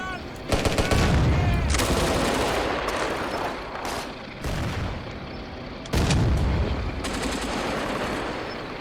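Gunfire in the tank game Steel Fury during a merciless defense by a BT-5 Mod. 39, loud bursts of shooting and booming blasts that come in several waves and fill the clip, with no voices.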